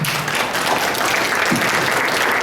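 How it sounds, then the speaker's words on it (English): Audience applause welcoming a speaker onto a stage, a steady, dense wash of clapping from a sizeable crowd heard from a distance, even and sustained with no distinct individual claps. "Give him a round of applause."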